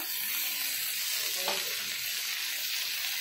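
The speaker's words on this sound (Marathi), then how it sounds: "हे टोमॅटो बारीक होईपर्यंत चांगलं भाजून घ्यायचंय" Tomatoes frying in a small amount of oil in a pan for a dhaba-style egg masala, giving a steady, even sizzle that holds throughout with one brief brighter hiss midway; no talking.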